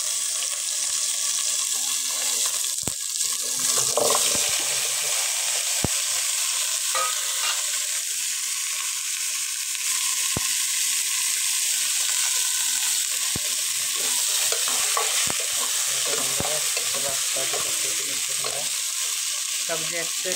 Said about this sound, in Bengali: সবজি একটু একটু করে সব সবজি ভাজি করতে হবে।